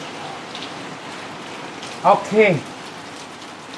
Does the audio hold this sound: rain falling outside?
yes